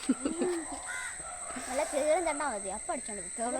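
Crows caw in a few harsh calls while a person talks nearby, the voice and cawing overlapping against a faint high background hum.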